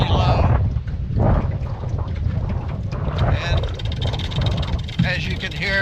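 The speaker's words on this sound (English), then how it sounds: "as you can hear, the wind's really picked up" Strong gusty wind buffets the microphone at a low lake narrows, a steady loud rumble with rushing noise running throughout the clip.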